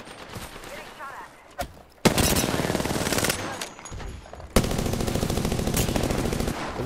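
Automatic weapon fire in the shooter game Apex Legends: long, loud bursts of rapid gunfire break out after a brief quieter stretch, with occasional single shots and impacts layered in.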